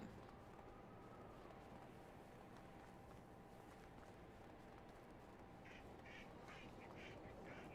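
Ducks quack repeatedly in the medieval survival game Medieval Dynasty, a cluster of short calls coming in near the end over a dense, steady outdoor ambience.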